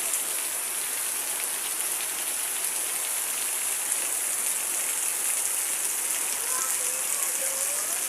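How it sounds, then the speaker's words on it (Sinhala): Heavy rain pours down outside a house, a dense and constant hiss of water heard up close with no break. "මේ වෙලාවට නම් හොඳටම වැස්ස සැරයි."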